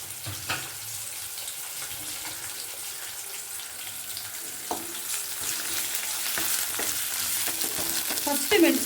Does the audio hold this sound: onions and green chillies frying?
yes